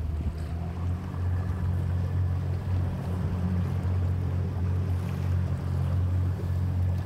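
Sea waves slosh around a sea urchin dredging boat as its engine drones low and steady, with wind buffeting the microphone and continuous water rushing throughout.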